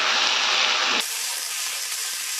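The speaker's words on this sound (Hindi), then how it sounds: "मटर भी हमने एक दो मिनट भून लिए हैं।" Green peas frying in a pan for methi matar pulao, giving a loud, steady sizzle and hiss that shifts abruptly about a second in to a thinner, higher continuous frying hiss, close and without talk.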